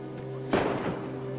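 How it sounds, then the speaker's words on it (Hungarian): A single loud gunshot in the survival video game DayZ, a sharp broadband crack with a short decaying tail, standing out over a steady low electrical hum. "Shooting again."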